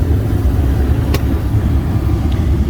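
A 4.0-litre Jeep Grand Cherokee engine, 1999–2004 model, idling with a strong low rumble that holds steady and close throughout, with little distinct rise in revs.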